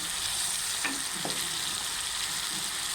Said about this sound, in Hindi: ये हमने ऐड कर दिया और ये अच्छे से फ्राई हो रहे हैं।